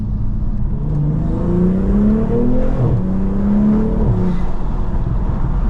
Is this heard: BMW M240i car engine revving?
yes